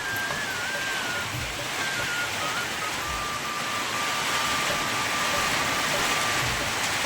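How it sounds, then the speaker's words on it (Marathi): Heavy rain pours steadily throughout, a dense broadband hiss with faint low rumbles beneath and a thin high tone running across it. "पाऊस चांगला जोराचा पाऊस चालू"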